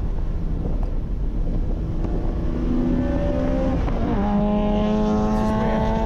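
A Jaguar XJ6C race car drives at speed around Lime Rock track, its engine note rising and shifting in steady tones through gear changes beneath heavy wind rush at the microphone.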